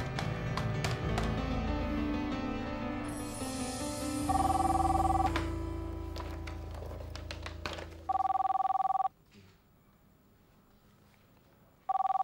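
A telephone rings at night in a quiet room, sharp electronic ring bursts that repeat, loud and close, with some background music and tones between rings.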